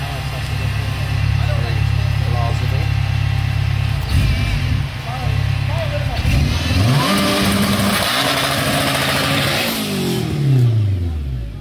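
A car with a stock K24 engine making about 500 horsepower runs a drag strip pass, its engine loud and close as it revs and climbs through rising gear pulls, with a brief dip between shifts.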